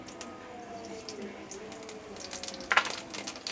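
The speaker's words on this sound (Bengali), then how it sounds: "কালো জিরাটা একটু ভাজা হবে ততক্ষণ" Nigella seeds fry in a little mustard oil in a pan, a quiet steady sizzle with a short clatter near the end.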